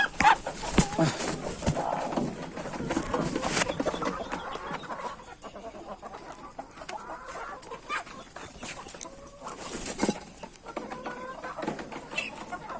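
Chickens cluck and fowl chatter close by on a farm while a mother duck is carried to the coop, with someone speaking intermittently over the birds and rustling handling noise.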